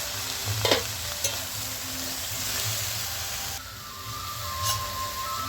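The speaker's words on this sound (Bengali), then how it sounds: "আলু বেগুন ডাঁটাটা আমার কষানো হয়ে গেছে।" Potato, eggplant and vegetable stalks are sautéed and stirred in a pan, giving a steady close sizzle with sharp spatula scrapes near the start and a brief hiss midway.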